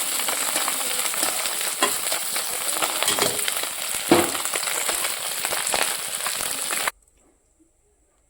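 Fish frying in hot oil in a kadai in a home kitchen, a steady close crackling sizzle with occasional louder pops, running continuously before cutting abruptly to silence.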